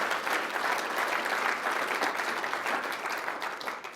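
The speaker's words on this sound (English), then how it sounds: "a round of applause for Simone, one of our finalists" A crowd at an AAU Sullivan Award ceremony applauds a finalist, dense steady clapping filling the whole stretch at an even level before easing slightly near the end.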